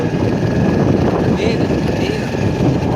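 A loud, steady engine drone fills the clip continuously, rough and close, with no pauses.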